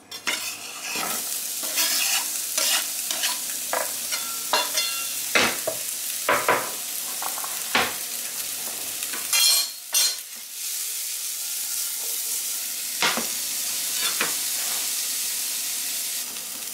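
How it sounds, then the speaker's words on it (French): Onion and garlic sautéing in a pan for a lentil parmentier, a continuous close sizzle with frequent sharp scrapes and knocks from stirring throughout, and no talking. "Donc il faut faire revenir l'oignon et l'ail et ensuite baisser le feu"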